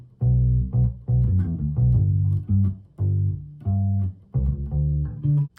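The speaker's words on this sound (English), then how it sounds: "that whole bass line sounds like this" An electric bass plays a bass line, a plucked, repeating line of deep rounded notes in short rhythmic phrases, up close with no other instruments.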